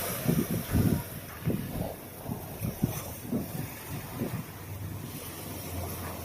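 Strong northeast monsoon wind, the amihan, buffets the microphone at sea with rough low gusts and surges over a steady hiss of wind and waves.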